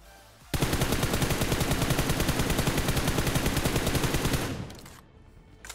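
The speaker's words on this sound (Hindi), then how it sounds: "क्योंकि इसने जस्ट अभी इधर से फायरिंग की" Sustained rapid automatic gunfire in the BGMI battle royale game, a single burst of about four seconds with steady fast rhythm, loud and close, cutting off abruptly into near silence.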